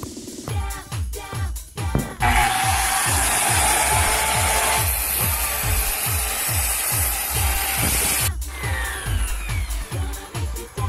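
Power tool cutting wood and throwing sawdust, a loud sustained whine for about six seconds between stretches of rhythmic scraping strokes, close up with no voices.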